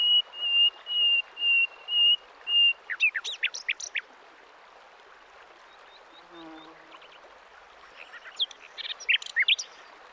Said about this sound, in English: Concealed between the branches, a nightingale.